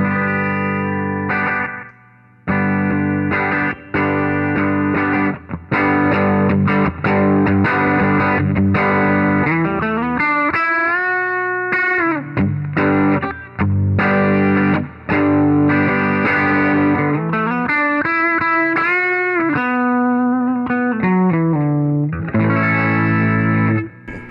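An electric guitar plays through an amp with reverb and extra gain, loud and distorted, with sustained chords and bending, wavering notes that ring out over about twenty-four seconds, with no talking.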